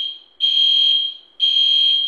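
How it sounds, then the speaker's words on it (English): A hotel room smoke alarm shrieks in loud, piercing, sustained electronic beeps, two long pulses separated by a short gap, close and alone. "While the fire alarm's going on, they're just eating on the floor because the fire alarm went off in the main bedroom."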